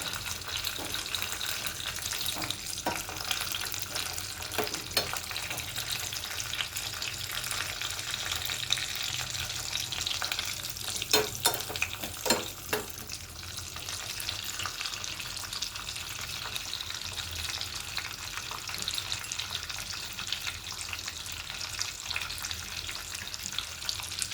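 Cashews fry in a pan for sweet pongal with a steady, dense sizzle throughout. A few brief stirring clatters come near the middle, and there is no talking.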